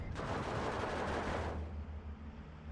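MG34 machine guns fire in Steel Division 2, a loud, continuous rattling burst that stops abruptly and leaves a low rumbling background.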